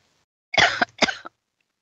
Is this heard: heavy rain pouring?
no